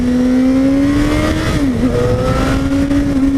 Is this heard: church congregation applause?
no